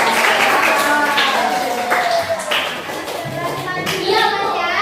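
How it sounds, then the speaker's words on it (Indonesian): A classroom of students claps together in applause, a dense, steady patter of many hands from start to finish, with a few voices and children's chatter mixed in underneath. "Nah, kita berikan aplaus."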